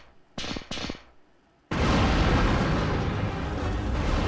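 Explosion in Resident Evil 3: two short muffled thuds first, then a sudden loud blast that turns into a sustained, dense roaring rumble of fire and debris. It sits close and fills the scene, with no voices over it.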